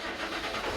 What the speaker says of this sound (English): fire up the port engine